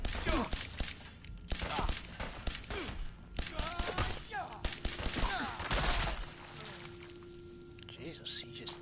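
Gunfire in Fallout 4 comes as a rapid string of sharp cracks and bursts through the first six seconds, loud and close, mixed with other game effects before fading into a quieter hum.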